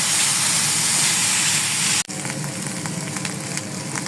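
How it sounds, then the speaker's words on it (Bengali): Spice paste for beef korma sizzling and frying in a pan, a steady loud hiss with a brief dip midway before the sizzle resumes, no talking. "এখন ভালো মতো মশলাটা কষিয়ে নিতে হবে।"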